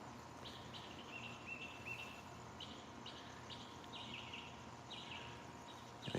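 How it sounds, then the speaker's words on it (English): Birds calling repeatedly at night, a series of faint high chirps and tweets recurring over a steady background hiss of insects, with a brief louder thump at the end. "these birds have been just exceptionally loud"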